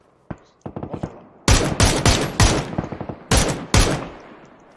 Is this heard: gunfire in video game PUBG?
yes